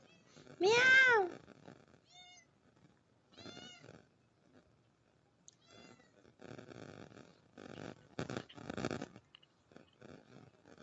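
A pet cat meows loudly once up close, then gives several softer, shorter meows and faint sounds spaced out over the following seconds, with a quiet room around it.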